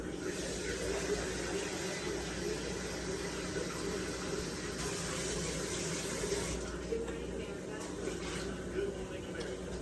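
Tap water runs steadily into a small measuring cup in a home kitchen, a continuous hissing pour at moderate level that holds for the whole stretch.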